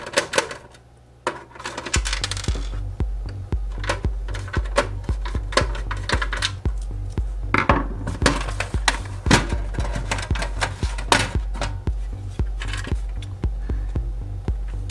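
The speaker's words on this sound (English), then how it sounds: "So let's start by taking out these four screws." Small screws being unscrewed and removed from a Sega Genesis 2 console case, heard as a dense run of close, sharp clicks and ticks with a steady low hum underneath.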